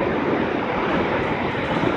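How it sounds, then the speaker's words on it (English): Water from a dam rushes out at high speed and crashes against a concrete breaker wall, making a dense, continuous roar that stays loud and even without a break. "The water is rushing out at a very high rate of speed, crashing down into a breaker wall, concrete wall down here"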